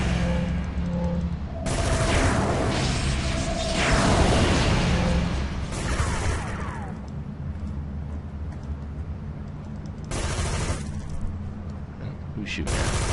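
Gunfire and explosive whooshes in the superhero video game City of Heroes, in the Syndicate building of Imperial City, with several bursts of shots and booms over constant game noise and music.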